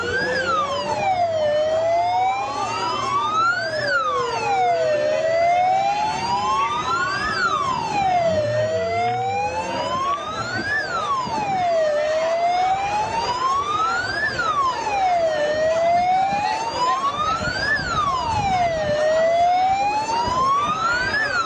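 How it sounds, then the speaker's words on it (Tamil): Several ambulance sirens wail together on a crowded road in Karur during a chaotic political rally crowd emergency, the rising and falling tones overlapping and repeating steadily, loud and close above a dense background rumble of traffic and crowd. "இப்போ ஒரு 5-6 ஆம்புலன்ஸ்களை பார்க்க முடியுது"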